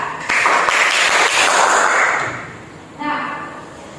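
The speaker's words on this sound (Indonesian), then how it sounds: "kita beri tepuk tangan dulu untuk Eka" A classroom of students claps for a classmate named Eka, a burst of applause that swells, then tapers off after a couple of seconds, with a voice and a few thumps around it.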